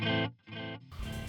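Distorted electric guitar through a JST Toneforge Disruptor djent amp sim with a ping pong stereo delay, chugging chords that cut out and return, repeats bouncing behind the notes, loud and alone without talk.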